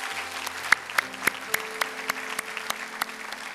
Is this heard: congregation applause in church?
yes